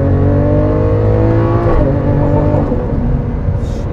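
Lamborghini Aventador first generation, a heavy V12 supercar with a single-clutch gearbox, accelerating hard at full throttle: a loud, continuous engine roar rising in pitch, with a quick gear change partway through, close and alone.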